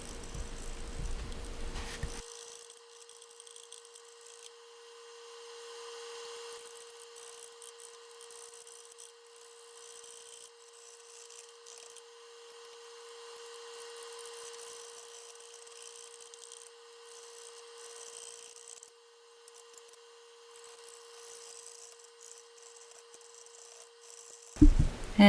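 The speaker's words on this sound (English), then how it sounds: "With the Carter & Son 3/4 inch bowl gouge, still trying to bring it into round." An applewood blank spins on a wood lathe at low RPM while a Carter & Son 3/4 inch bowl gouge cuts it toward round, making a continuous faint rubbing scrape over a steady motor hum.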